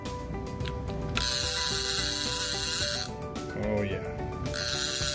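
The clicker on a Gen 2 Neptune's Heart fishing reel, a chicharra, goes off in loud buzzing ratchet bursts that start and stop, with a short spoken remark between them.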